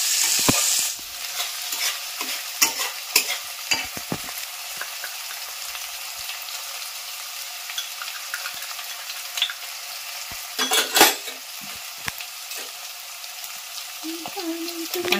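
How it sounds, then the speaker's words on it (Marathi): Paneer fries in a pan with a continuous light sizzle, broken by scattered clinks and scraping stir strokes, a couple of louder clattering bursts partway through. "आधी पनीर भाजून घेते."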